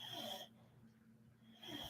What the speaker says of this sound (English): This damn dog is snoring like crazy.